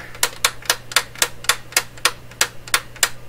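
A steady series of sharp mechanical clicks from the power switch of an unpowered Heathkit GR-61 FM portable radio, about a dozen evenly spaced snaps, close and fairly loud with no voices.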